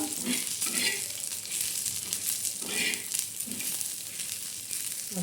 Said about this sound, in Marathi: भाजून घ्यायचा म्हणजे काय होतं चांगला मसाला भाजला तर चव बी भाजला येते